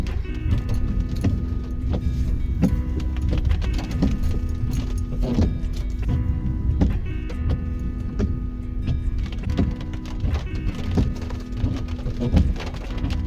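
A car rolls slowly through Huntsville State Park with a steady low engine rumble and cabin hum, punctuated by irregular rattles and taps, close and moderately loud, with no talking.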